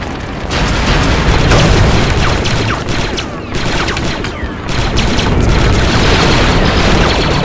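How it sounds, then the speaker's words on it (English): Continuous loud rumbling blasts and crackling booms from a video game charge detonation, sustained and dense across the whole stretch with brief dips, close and overwhelming. "The charge is set and ready to detonate."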